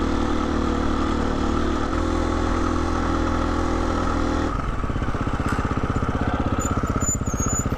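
A Husqvarna motorcycle on a mountain trail: a steady, loud engine drone holds for several seconds, then shifts to a rougher, pulsing chug as the bike works over the terrain, close to the rider.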